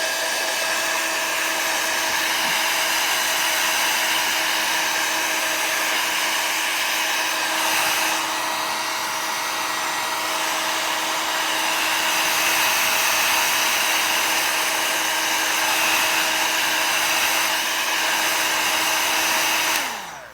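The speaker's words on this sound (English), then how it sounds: "I'm going to turn the heat gun on" A heat gun blows steadily for about twenty seconds to dry a freshly stamped card, a constant close whooshing hiss with a faint motor whine that cuts off at the end.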